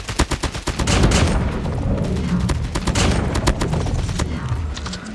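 Man-O-War rifle gunfire in a ranked match of a video game: a rapid string of loud, punchy shots in bursts, continuing steadily for several seconds.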